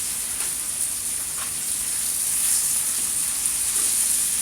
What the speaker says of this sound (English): These are home onion rings, home fried onion rings.